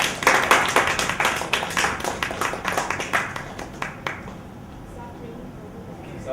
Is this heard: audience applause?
yes